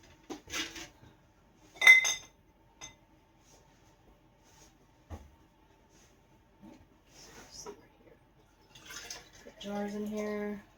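Glass canning jars clink against one another as they are set into a pressure cooker for canning pineapple, with a few sharp, separate clinks and a short burst of talk near the end.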